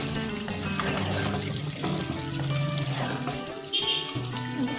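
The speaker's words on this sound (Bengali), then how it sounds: "অল্প একটু পানি দিয়েছি।" Water is poured into a beef and potato curry with whole garlic as it cooks in the pot, giving a steady liquid splash and pour over continuous kitchen noise, close by.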